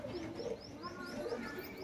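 Teddy pigeon, a male kept with a female, cooing softly in a repeated rising pattern over a continuous low hum of background noise.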